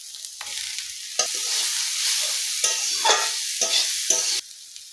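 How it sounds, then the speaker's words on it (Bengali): Radish greens and dried fish stir-fry in a pan, a bright continuous sizzle broken by repeated scraping stirs of a spatula, close and loud with no talking. "আমি একটু ঘাটাঘাটি করবো"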